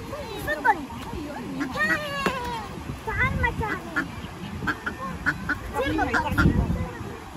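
White and black ducks quack and honk repeatedly in Aspire Park in Qatar, their calls steady and fairly close amid outdoor park ambience, with birds and faint voices in the background.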